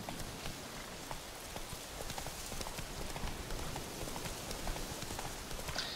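Horse hooves clip-clopping in the video game The Witcher 3: Wild Hunt, a quick, steady gallop of hoof beats over a rain-like patter, moderately faint and without talk.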